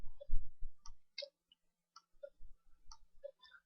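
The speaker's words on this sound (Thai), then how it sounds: "คลิกไปที่ตัววัตถุนะครับ คลิกเมาส์ขวา" A series of sharp, light mouse clicks spaced unevenly across a few seconds, close and quiet with soft low thumps between them, during editing of a DVD case cover in graphics software.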